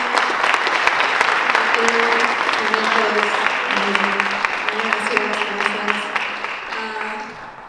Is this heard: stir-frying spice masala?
no